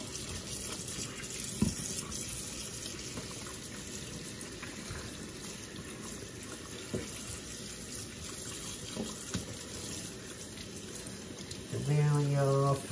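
Tap water runs steadily to rinse a guinea pig during its bath, a soft continuous splashing gush heard close under intermittent speech, with a brief louder splash near the end.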